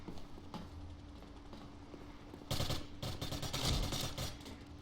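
Suppressed gunfire from a weapon in the Neotokyo video game rattles in quick bursts of muffled, snappy shots over a steady low background hum, moderately loud and without talk.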